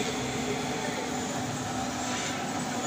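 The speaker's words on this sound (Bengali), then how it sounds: "স্কাই ট্রেন যেটা এটি যায়" A sky train runs along its elevated track at Dreamland amusement park in Sylhet, giving a steady, even rumble of rolling wheels and cars that holds at one level from start to finish, with no clear voices over it.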